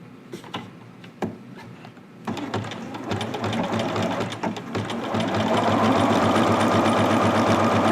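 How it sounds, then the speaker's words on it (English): A sewing machine stitches a waistband: a few short ticking bursts first, then a steady, loud, continuous whir that builds and runs to the end. "just sew down the other side"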